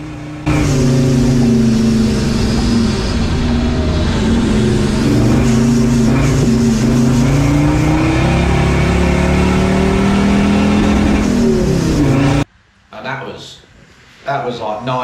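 A tuned, freshly mapped turbocharged car revs hard as it is driven around a grassy field, a loud continuous engine drone rising and falling with throttle, cutting off abruptly near the end before a brief restart.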